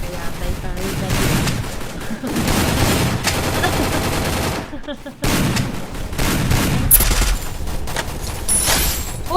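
Rapid, loud gunfire in an online battle-royale shooter game bursts almost continuously, with a brief pause midway, while players talk over the shooting.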